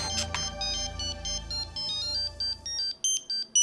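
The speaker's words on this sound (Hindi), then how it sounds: "रति का फोन है।" An electronic phone ringtone plays a repeating chiming melody in short bursts, loud and close, with no talking.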